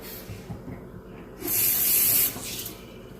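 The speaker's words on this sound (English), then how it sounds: "Let me rinse this off." A kitchen sink tap runs over a plate being rinsed, a hissing spray that swells loudly for under a second amid quieter water noise, with no talk.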